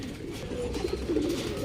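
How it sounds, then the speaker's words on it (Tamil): Highflyer pigeons coo softly in a low, throaty murmur behind a steady background hum, the bubbling calls rising and falling over a second or so. "நான் ஒரு புறா உங்களுக்கு பிடிச்சி காட்டுறேன்."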